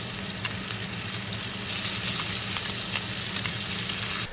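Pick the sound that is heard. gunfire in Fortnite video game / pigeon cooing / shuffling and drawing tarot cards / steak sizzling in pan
steak sizzling in pan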